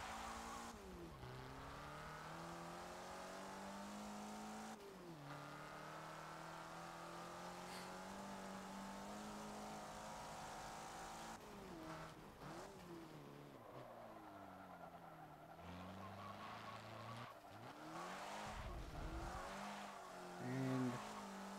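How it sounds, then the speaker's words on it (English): Racing car engine in Forza Motorsport 7 revving up and down through gear shifts, with brief tire squeals, heard fairly quietly and continuously. "I gotta say, this car does sound good."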